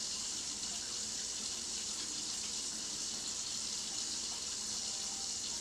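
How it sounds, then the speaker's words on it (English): A kitchen tap runs continuously while hands are washed with soap, a loud, steady bright rush of water close by that holds evenly from start to finish with no talk. "the water is really loud too."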